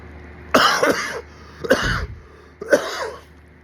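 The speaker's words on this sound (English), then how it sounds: "Still coughing right now" Three heavy, chesty coughs spaced about a second apart, close and loud, with throaty rasping between them.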